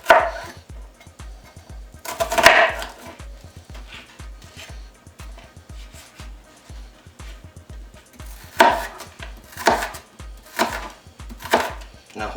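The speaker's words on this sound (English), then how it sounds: "And we will give that a nice chop." A knife chops tomatoes and onions on a cutting board for bruschetta chicken, a fast steady run of sharp, close taps with a few louder, scraping strokes mixed in.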